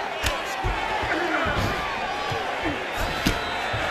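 An arena crowd in the MMA fighting game UFC 5 roars and cheers in a dense wash of noise, punctuated by a few sharp slaps or impacts, while a commentator talks over it.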